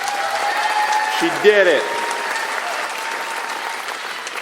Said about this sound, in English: Huge round of applause for Megan.